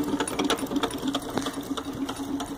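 A small model Denny hot air engine fuelled by Coleman camp fuel runs close by with a fast, even mechanical ticking and whirr, a steady rhythmic clatter lasting the whole moment.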